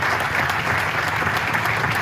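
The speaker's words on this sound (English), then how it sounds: "give yourselves a round of applause for that" Brief burst of crowd clapping at an outdoor bank groundbreaking ceremony, dense and steady for a couple of seconds.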